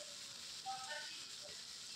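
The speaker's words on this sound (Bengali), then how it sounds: "অ্যাড করে দেওয়ার পরে এটাকে একটু নেড়েচেড়ে ভালো করে ভেজে নিচ্ছি।" Potatoes, pointed gourd and long beans fry in a pan with a faint, steady sizzle and hiss throughout, and a brief soft murmur partway through.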